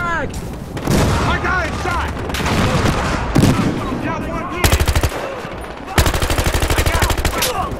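Automatic gunfire in Battlefield Hardline: loud rapid bursts and single shots with booming impacts, a long sustained machine-gun run near the end, while a player talks excitedly over it.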